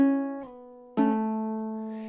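A fingerpicked riff on a baritone ukulele: one plucked note rings, then a slide and pull-off shift the pitch before a second bright pluck sustains and fades, alone and close.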